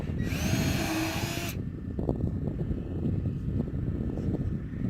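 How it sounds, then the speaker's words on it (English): A power drill bores into a wooden wall top plate during house framing, giving a loud, high whine for about a second and a half. The whine then cuts off, leaving quieter shuffling and handling noise. "drilling the top plate for one of the walls"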